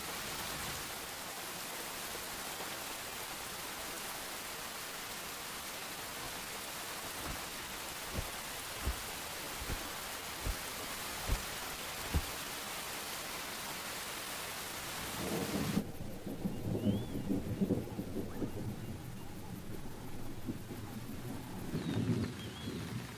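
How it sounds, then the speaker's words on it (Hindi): Heavy rain pours steadily, with low thumps of thunder, then the downpour's character shifts and softens toward the end. "बारिश का जोर जहां कम होता हुआ दिखा"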